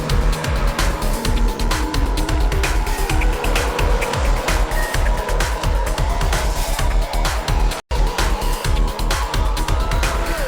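A1GP race cars roar along the one-kilometre start-finish straight between walls toward the first corner, a loud, continuous engine din with dense rapid pulsing throughout and no voices.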